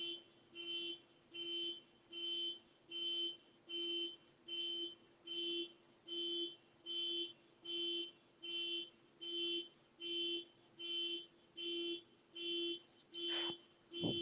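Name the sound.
car alarm of a white Subaru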